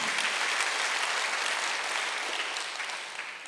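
A congregation at a Sunday church worship service applauds, a dense, even wash of clapping that fades slightly toward the end, with no speech over it.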